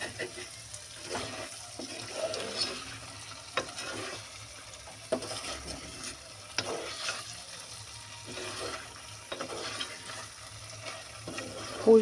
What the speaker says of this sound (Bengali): দেখো এমন কিন্তু নাড়ি চাড়িয়ে দিতে হবে